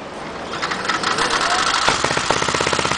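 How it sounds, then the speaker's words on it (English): A small engine on a hybrid motorized bicycle cranks and catches, settling into a rapid, steady putter of regular firing pulses, close to the microphone with a person speaking around it. "Now start the engine."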